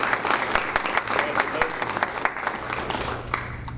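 Audience applause at a school board meeting honoring a girls' track relay team, a crowd clapping steadily with some sharp individual claps standing out, moderately loud and continuous.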